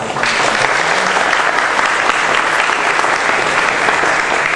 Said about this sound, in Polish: Uprzejmie proszę o brawa.